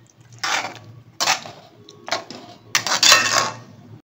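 A spoon stirs chicken curry with coriander in a metal pot, producing four close, bursty scraping and clinking strokes with short pauses between them and no talking.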